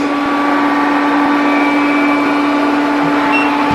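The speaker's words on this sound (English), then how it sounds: "If you go into the cleaning preferences, you can set the vacuum power." A TP-Link Tapo RV10 Plus robot vacuum runs at max power, giving a loud, steady whirring drone with a constant hum that never lets up, heard close with no talking.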